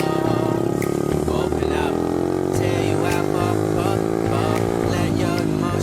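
Small single-cylinder engine of a Honda CRF50 pit bike droning steadily while being ridden outdoors, the buzzing pitch rising and falling slightly, loud and continuous throughout.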